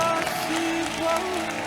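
A church congregation applauding during a deliverance service: a loud, dense wash of clapping and crowd noise, with sung or shouted voices rising through it.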